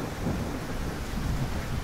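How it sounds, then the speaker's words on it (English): Steady rain with rumbling thunder from a weather effect in a Godot video game. A dense, continuous hiss of rainfall runs throughout, with low rumbles underneath and no speech. "Because the rain node is connected to the camera, the rain falls only where our character is currently in"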